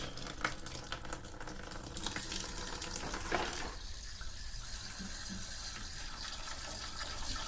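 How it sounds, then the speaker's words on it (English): Water gushes and splashes from a Ferroli Optimax boiler outlet as it drains, a steady rushing flow that shifts in tone partway through, fairly quiet. "Water starts coming out."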